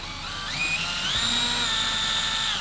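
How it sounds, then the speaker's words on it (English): An electric drill whines up to a high, steady pitch and holds it as the bit bores a small hole through a Mitsubishi Evo X bumper, close and continuous, with no talking. "And let's drill this little hole."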